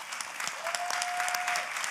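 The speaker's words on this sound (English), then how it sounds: "give these guys a big round of applause" An audience at a church service claps, a dense, even wash of applause filling the whole short stretch with no voices standing out.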